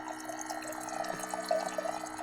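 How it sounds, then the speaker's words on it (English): Water trickling and gurgling into a container at close range, enough to boil an egg while SUV camping, with small bubbling drips over a faint steady hum. "I'm going to fill this up with water."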